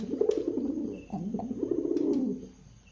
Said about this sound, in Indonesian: Tuh, bekur terus ya teman-teman.